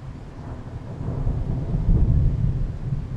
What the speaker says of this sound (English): That's a storm coming.